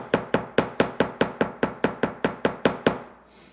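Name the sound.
hammering metal to flatten a square spiral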